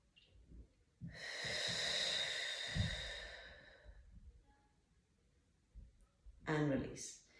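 A long, breathy exhale during a postnatal breathing exercise, close and steady for about three seconds, with brief nasal breaths before it and a sharper breath near the end.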